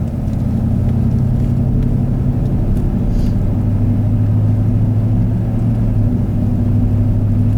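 A 4x4 vehicle in four-high crawls along an icy winter logging road, its engine giving a loud, steady low rumble and drone that holds constant throughout, heard from inside with no voices.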